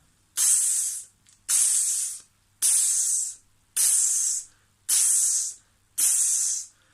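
A voice imitates an open hi-hat with six sustained hissing "tsss" bursts, evenly spaced about a second apart, each ringing briefly before cutting off.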